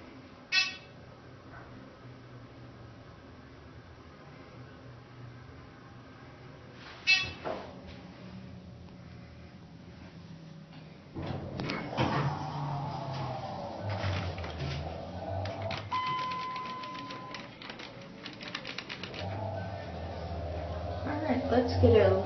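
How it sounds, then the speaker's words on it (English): A Dover hydraulic elevator at a Hampton Inn in Lincoln, Nebraska: a few clunks and a sharp knock early on, then the motor starts partway through with a loud, steady, close droning hum that runs to the end. "This elevator has an epic motor, so we'll be sure to listen to that."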